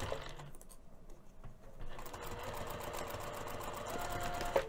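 A sewing machine stitching a pouch lining closed: a faint start, then rapid steady mechanical clatter of needle strokes running continuously in a quiet room.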